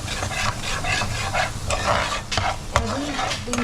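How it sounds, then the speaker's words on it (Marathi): Masala roasts in a pan with a busy sizzle and frequent scraping, clicking strokes of a spoon stirring it, close and steady throughout. "भाजून घ्यायचा आता,"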